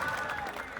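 Audience at a school celebration event clapping: a short, dense burst of applause with a faint crowd murmur mixed in, steady and moderately loud throughout.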